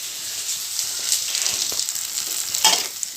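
Green chilies fry with onion in a hot pan in a home kitchen. The close sizzle carries on while a spoon scrapes and stirs in short bursts.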